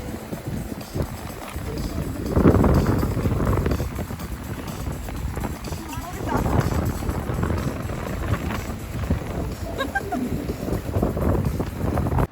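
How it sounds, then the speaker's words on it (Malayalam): Strong wind buffets the microphone in heavy rumbling gusts over a lake while kayaking, loud and continuous, with some faint splashing beneath. "പക്ഷെ ഇന്ന് ഭയങ്കര കാറ്റുണ്ട്."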